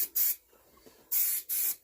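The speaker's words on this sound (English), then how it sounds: "She's a good old aerosol." Aerosol spray paint hissing from a can onto a John Deere 115 lawn tractor: three loud, steady bursts, one short one near the start and two longer ones after a pause, close by with no talk.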